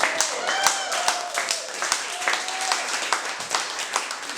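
A small comedy-show audience claps for a performer who has just finished, in quick, uneven individual claps with a few faint voices and whistles mixed in.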